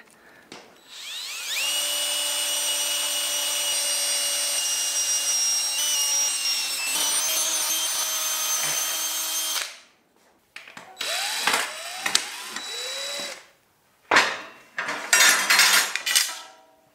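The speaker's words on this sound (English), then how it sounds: "I'm going to use this new self-centering bit I just got to mark the hole positions" A power drill with a self-centering bit whines steadily for several seconds marking hole positions on an aluminum CNC bed, then stops; shorter bursts of drilling and metallic scraping follow after brief pauses.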